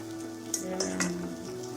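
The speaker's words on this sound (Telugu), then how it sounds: "స్లోగా ఫ్రై అవుతున్నది" Raw banana slices fry slowly in oil over a low flame, giving a soft, steady sizzle with a few brief crackles and pops, heard close and quiet with no talking.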